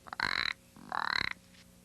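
An old toad in an animated Thumbelina tale gives two rough, buzzing croaks, close and clear, each lasting about a third of a second with a brief pause between.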